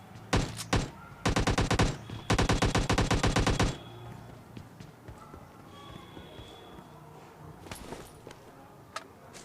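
Automatic-rifle bursts in PUBG Lite, a battle royale shooter: three rapid loud volleys of gunfire up front, then sparse distant single shots over faint ambient game noise.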